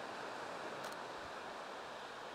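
Ocean waves wash steadily along the Swedish coast at Hornslandet, a continuous broadband surf hiss with a brief brighter splash partway through, no voices.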